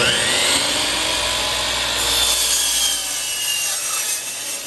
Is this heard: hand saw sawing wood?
yes